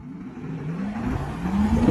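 A Xiaomi SU7 electric car launches and accelerates hard, a rising whine sweeping upward over about two seconds with growing road rumble, fairly quiet and without talk.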